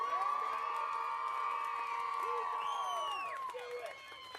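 A crowd cheers and shouts at a youth softball tournament's opening ceremony, a steady, loud wash of voices that swells and then tapers off toward the end.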